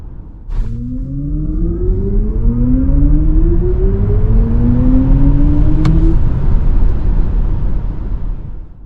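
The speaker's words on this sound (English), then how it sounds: "worked with Hans Zimmer on developing unique sounds that you hear when accelerating or slowing" BMW iX electric car accelerating with its synthetic drive sound co-developed by Hans Zimmer, a smooth rising futuristic tone that climbs steadily in pitch over several seconds, loud and continuous over road and motor hum.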